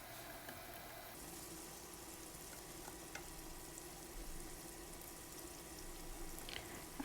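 Boiled chicken liver stir-fried in a pan gives a steady, fairly quiet sizzle with faint scraping and a few soft clicks of stirring throughout.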